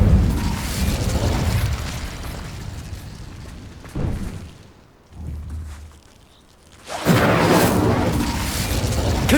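A fire spell explodes in Hogwarts Legacy, with heavy booming bursts and crackling blasts that fade into a quieter gap before another loud eruption swells back in.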